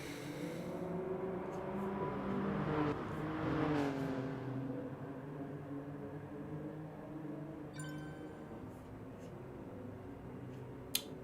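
Race car engines in the GT Sport racing game drone and rev at a start, swelling briefly and then settling into a steady rumble with a few faint clicks.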